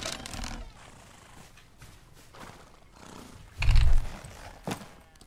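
Black Mustang horse in the video game Outlaws of the Old West, snorting and whinnying with a louder neigh burst midway, heard alone at moderate volume.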